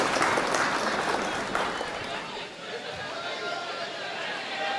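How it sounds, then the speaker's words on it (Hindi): Audience at a mushaira opening and honour ceremony in a town council compound applauds to welcome guests, dense steady clapping filling the space, with crowd chatter mixed in. "एक बार फिर आप इनका जोरदार तालियों से इस्तकबाल करते हैं"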